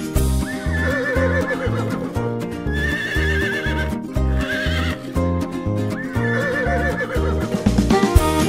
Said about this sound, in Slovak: Koníček, koníček, ako robíš? Iha, tak to robím.